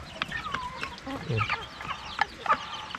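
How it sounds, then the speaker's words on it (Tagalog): A rooster clucks in short, irregular bursts close by, with other chickens chattering and scratching around it. "Ito yung Rhode Island po itong manok na ito."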